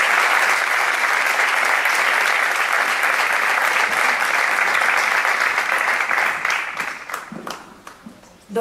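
Conference audience applauding a doctor being introduced at a residents' welcome event, sustained dense clapping filling the room for most of the span before thinning into scattered claps at the end.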